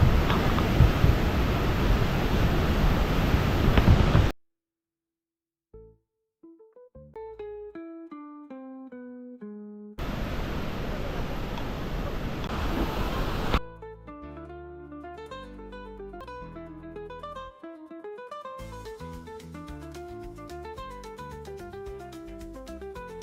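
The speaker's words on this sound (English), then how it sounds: "Petrohué waterfall." Rushing water at the Petrohué waterfall in Chile, a steady, loud, broad roar in two bursts of several seconds each, alternating with stretches of music.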